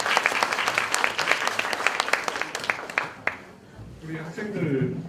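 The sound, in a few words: audience applause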